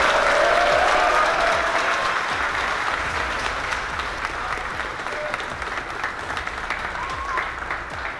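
Audience at a rap battle breaks into loud, sustained applause, a dense wash of clapping that gradually fades over several seconds.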